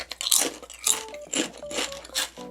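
Thick, very hard potato chips being bitten and chewed up close, a run of loud, sharp crunches in quick bursts, each followed by brief grinding.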